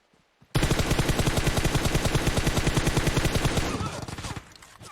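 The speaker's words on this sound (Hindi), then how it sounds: "जब मैं बंदे पे गोलियां मार के रश करने जा रहा हूँ" Rapid automatic gunfire from a PUBG Mobile match: a dense, loud burst of evenly spaced shots rattles on for about three seconds, then thins out into scattered echoing fire.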